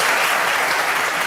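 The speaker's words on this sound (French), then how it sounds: "on va essayer de s'abstenir d'applaudir dans tous les sens" A television studio audience claps, a dense, even burst of many hands that stays loud and continuous throughout with no speech on top.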